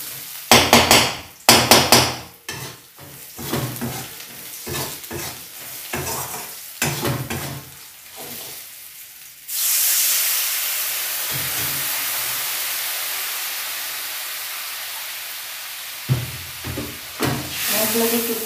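Turmeric, chili and coriander powders being sautéed in a generous amount of oil: loud spoon knocks and scraping against the pan at first, then a sustained sizzling hiss, with the stirring knocks returning near the end.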